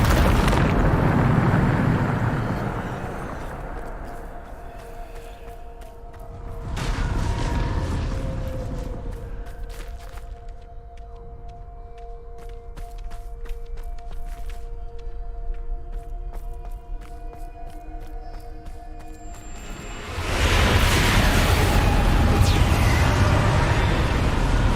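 Bombarda explosion spells cast in Hogwarts Legacy, loud booming blasts at the start, near seven seconds and again at twenty seconds, with rumbling tails and tonal magical hums and crackles between them.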